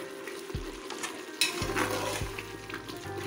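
Chicken sizzles and fries in a pressure cooker with ground green chillies while cooking for pulao, a steady soft crackle with a few light clinks of a spoon or pot.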